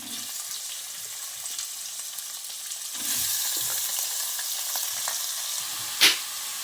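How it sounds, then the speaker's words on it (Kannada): Half a kilo of chicken frying in a pan with green chilli and onion for chicken sambar, a soft sizzle that suddenly grows louder midway, with a brief clatter near the end. "ಅದಕ್ಕೆ ಅರ್ಧ ಕಿಲೋ ಚಿಕನ್"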